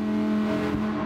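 Steady engine drone from a car accelerating in the racing game Gran Turismo 7 on the Deep Forest circuit, with a sustained tonal hum under broadband road noise for about a second.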